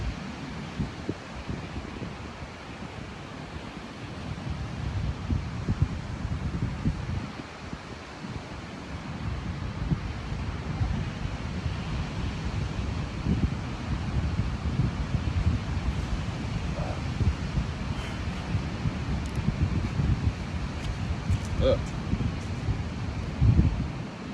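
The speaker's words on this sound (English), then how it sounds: "It's getting a little chilly. That wind's blowing now." Wind blows outdoors at a campsite, a steady low rumble of wind buffeting the microphone that swells in gusts for the whole stretch, with faint rustling and no voices.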